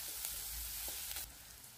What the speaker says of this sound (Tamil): இது எல்லாத்தையும் லைட்டாக வதக்குங்க.